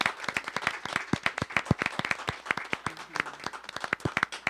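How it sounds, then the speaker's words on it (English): A smaller audience at a Mount Healthy Board of Education meeting claps for teachers, a brisk, fairly sparse round of distinct handclaps in a quiet room, lasting a few seconds. "Let's give them another round of applause."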